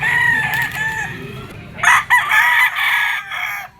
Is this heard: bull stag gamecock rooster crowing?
yes